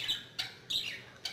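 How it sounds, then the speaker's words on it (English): Sharp, high bird squawks and chirps repeat in quick bursts at close range, with short gaps between calls and no talking. "these birds are gonna freak me out"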